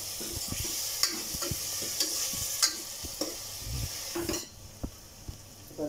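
Soaked chana dal being sautéed in a pan for a vajari (goat intestine) masala, with a steady sizzle under repeated scraping stirs and light clinks of a spoon against the pan, close and continuous.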